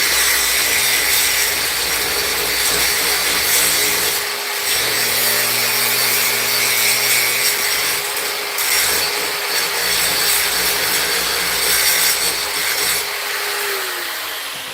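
A knife blade is ground on a power grinder, throwing plenty of sparks, giving a steady, loud abrasive whir with a low hum that runs unbroken throughout, with no talking.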